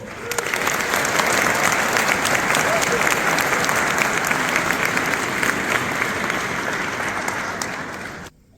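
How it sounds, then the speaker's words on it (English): A large crowd gives sustained applause for volunteers at a military family day event for a cavalry regiment, loud steady clapping lasting several seconds before stopping abruptly. "Please give them another round of applause."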